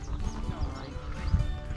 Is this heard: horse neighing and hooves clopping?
yes